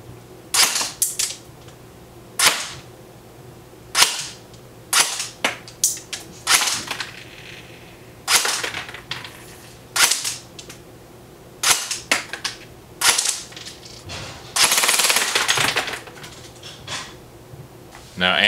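Airsoft Classic Army M4 rifle on an 11.1 volt LiPo battery firing through a chronograph: sharp single shots and short bursts at irregular intervals, close and crisp, with a faint hum between them.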